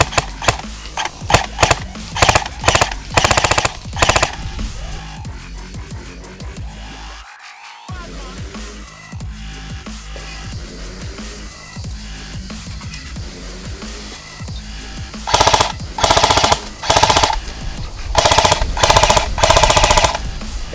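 An A&K PKM airsoft electric gun fires in rapid bursts of sharp mechanical clacks, with a quieter pause of gearbox whir and handling in the middle, then more bursts and single shots near the end.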